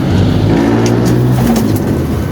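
Racing pigeons back at their loft coo close and continuously in a short burst, with faint road traffic in the background.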